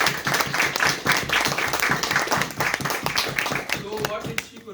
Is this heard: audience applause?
yes